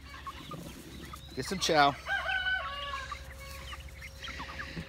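Small chickens cluck and chirp near the listener, with a burst of loud calls in the middle and someone speaking briefly over them.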